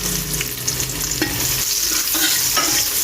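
Finely chopped onion stir-fried with garlic in a pan for pasta, a steady sizzle with scraping stirring strokes and a few clinks of the spoon against the pan, with no voices.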